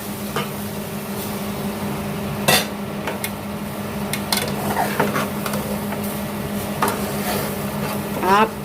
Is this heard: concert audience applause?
no